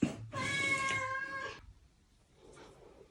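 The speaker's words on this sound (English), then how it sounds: "Please excuse my cat." A domestic cat lets out one loud, drawn-out meow close by in a quiet indoor room during a crochet session, followed by a fainter, shorter meow a moment later.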